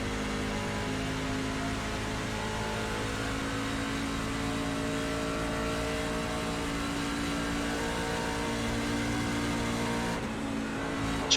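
A NASCAR truck engine in a racing video game holds a steady, loud drone with layered harmonic tones as it accelerates out of turn 1, running continuously throughout with no talking.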